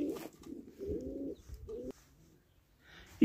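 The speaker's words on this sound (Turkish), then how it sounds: "Bu güvercinlerimin ötme sesini de duyuyorsunuz." Pet pigeons cooing softly nearby, several low, throaty warbling coos in uneven bursts, faint against a quiet background.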